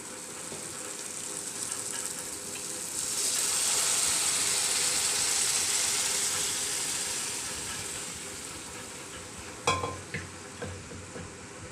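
Boiled whole mung beans tipped into a hot frying pan, bursting into a loud, steady sizzle that swells and then eases, followed by a few sharp clanks of a spoon stirring against the pan; no voices.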